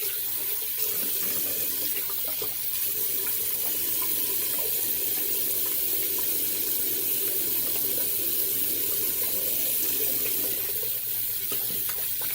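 Tap water runs steadily from a faucet into a sink while shaving lather is rinsed off, a continuous close splashing hiss that holds through the whole stretch without any talk.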